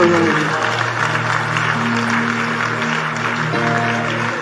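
A church congregation claps during a sermon, producing a steady, dense wash of applause while a voice carries on underneath.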